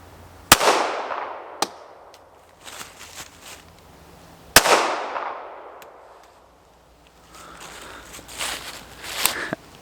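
Ruger LCP Max compact pistol fired at an outdoor range, sharp loud reports spaced apart with ringing decay, interspersed with fainter shots and background shuffling.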